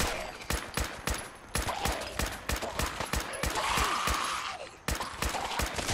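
Rapid, evenly spaced bursts of gunfire from the video game Fallout 4, loud and close, repeating steadily through the clip with a brief ringing tone midway and no talking.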